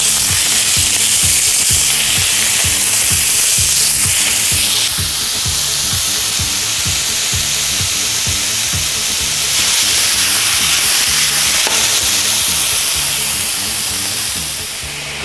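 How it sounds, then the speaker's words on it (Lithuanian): Thin slices of beef sizzle loudly and continuously in a hot frying pan, a dense close hiss with bubbling crackle that stays strong throughout and eases slightly at the end, with no talk. "mūsų keptuvė įkaito, galima dėti mėsą"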